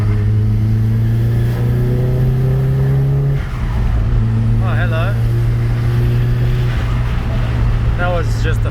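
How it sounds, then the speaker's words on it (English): A Nissan S15 Silvia pulling hard in fourth gear, its engine drone climbing steadily and loudly, then briefly breaking as the revs drop before building again, with someone speaking briefly over it. "That was just a 4th gear pull, nothing major"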